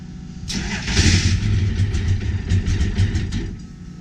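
A NASCAR race car engine cranks over and catches at about half a second, then runs and revs steadily with throaty pulses, loud and close, with no talking.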